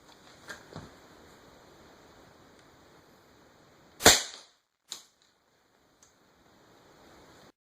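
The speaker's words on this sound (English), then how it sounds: "I'll be shooting it with my Crosman American Classic at 10 pumps" A Crosman American Classic pump airgun at 10 pumps fires one sharp, loud crack at Kevlar body armor, followed by a smaller snap of impact and faint clicks against a quiet background.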